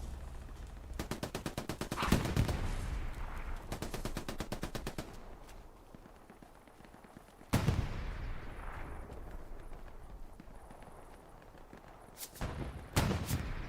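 Rapid bursts of automatic gunfire and a heavy blast from an anti-tank rocket hitting a light tank in the Hell Let Loose video game on the Kursk map, loud near shots with echoing tails.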